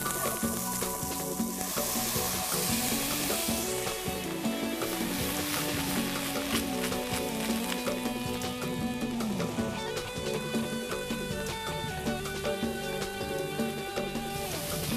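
Vegetables fry with garlic paste and a splash of wine in a pan, a steady dense sizzle running loud and close for the whole stretch, with no talking over it.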